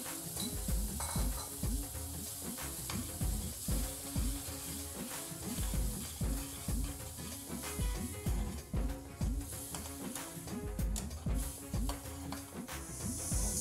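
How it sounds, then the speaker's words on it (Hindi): Onions being sautéed over a low flame, with steady stirring scrapes repeating in a brisk rhythm over a soft background sizzle, close and moderately loud, with no voices. "अब बारी है इसमें प्याज भूनने की। धीमी आंच पे हमको प्याज को भूनना है।"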